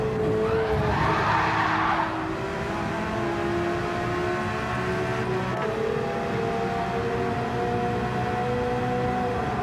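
A race car brakes and its tyres skid at Le Mans in a racing video game, with a squealing screech early on over a steady engine drone that carries on to the end.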